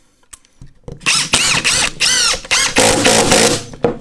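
A Metabo HPT 18V sub-compact brushless cordless impact driver sinks 2.5-inch construction screws, a couple of loud, close bursts of rapid hammering whine, each lasting about half a second to a second with short pauses between.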